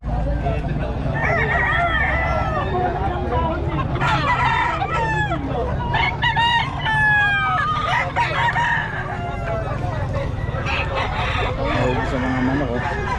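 Several roosters crow repeatedly at a poultry market in Bocaue, the calls overlapping one another against steady background clucking and a busy crowd murmur, with people talking nearby.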